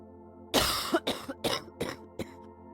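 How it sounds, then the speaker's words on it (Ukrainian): A burst of harsh coughing, several coughs in a row with short gaps, close and fairly loud, no talking. "Коли людина захворіла на туберкульоз, в неї сильний кашель."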